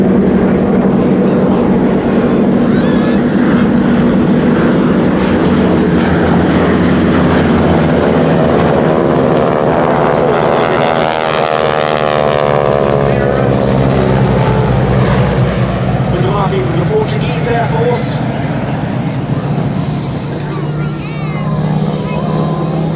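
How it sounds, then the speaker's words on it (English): A North American Harvard propeller trainer makes a final low pass at an air festival at Duxford, its loud radial-engine drone swelling and rasping steadily, with a commentator talking over it. "And tipping in behind for a final pass, the Fighter Collections aeroplane."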